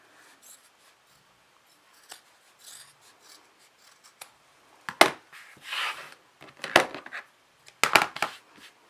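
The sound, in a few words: scissors trimming uneven fabric edges of a bag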